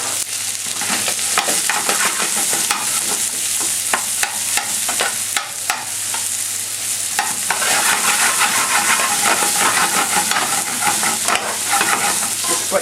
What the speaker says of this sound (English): Just sweat your onions a little.